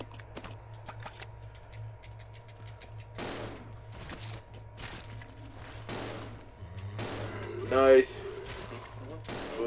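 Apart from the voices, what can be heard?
gunfire, from video game Resident Evil Zero HD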